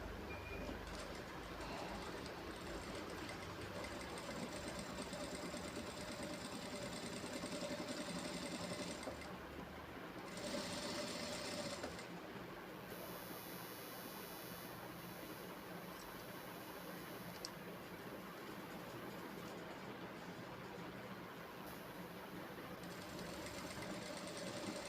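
A sewing machine stitches a maggam work blouse right beside the piping, running with a fast, continuous mechanical whir and rattle for a long stretch, close and steady.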